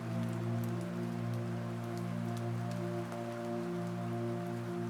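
Steady rain falling on a forest house, a soft, even patter with no voices, constant and gentle throughout.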